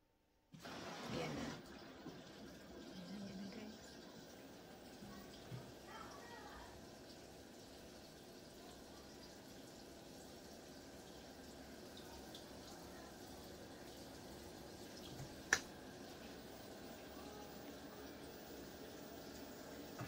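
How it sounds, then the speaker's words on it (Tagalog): Water runs and fills in a home laundry setting, a low steady gurgling wash after a louder initial gush, continuing faintly for a long stretch with a brief sharp click near the end. "Diyan lalabas yung tubig."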